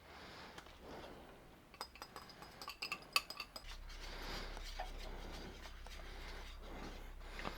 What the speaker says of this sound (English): good time to go ahead and dump in your mushroom, onion, and garlic mixture